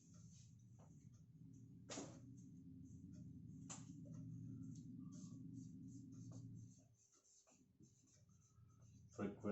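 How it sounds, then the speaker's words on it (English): Someone writes on a board in a classroom lesson, making faint scratchy marker strokes and taps over a low, steady hum, with a quieter stretch near the end. "I will write it down here"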